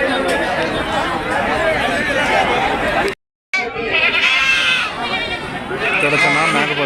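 Goats and bucks bleating amid a busy goat market in Kunta, with crowd chatter and talk throughout; the calls blend into a dense, continuous market din with a brief gap midway.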